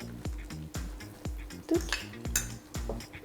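Spoon or spatula scraping and knocking rhythmically against a mixing bowl while muffin batter is stirred, a steady series of close clinking strokes roughly every half second with no talk.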